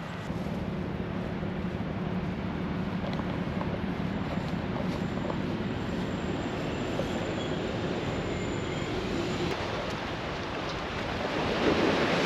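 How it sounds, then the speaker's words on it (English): Baltic Sea waves wash onto the beach of the Westerplatte peninsula in Poland as a steady, unbroken surf roar that swells slightly near the end, with no voices. "Listen to the beautiful Baltic Sea crashing on the shorelines."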